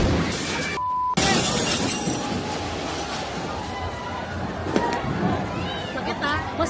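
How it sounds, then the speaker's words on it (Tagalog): A loud blast during a New Year celebration on a Tondo, Manila street, with a sharp crack followed by shattering debris and agitated crowd voices and shouting. "Umalingaw-ngaw ang napakalakas na pagsabog"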